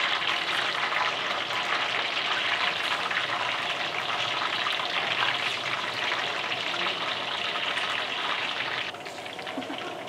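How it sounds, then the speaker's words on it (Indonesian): Tahu pong tofu frying in hot oil, a steady loud crackling sizzle with no talk over it, which drops a little near the end. "sekarang langsung aja bakal gua goreng si tahu pong kita"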